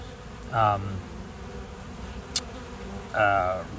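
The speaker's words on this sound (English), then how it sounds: "But look at these bees." Steady low buzzing of honey bees at a hive entrance in an apiary, with two louder close passes as insects fly near, over a constant humming background.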